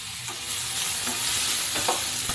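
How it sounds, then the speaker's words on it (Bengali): Vegetable stalks sizzle loudly in a pan while a utensil stirs and scrapes them, with several distinct scraping strokes over continuous frying. "আমি ভালো করে নেড়ে চেড়ে কষিয়ে নেবো"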